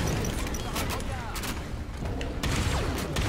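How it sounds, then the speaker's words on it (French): A shotgun and a rocket launcher fire in Halo 5 as heavy booming blasts and bursts of gunfire over a loud, dense battle din. "Putain, il fait grave mal ce fusil à pompe. Ce lance-roquette."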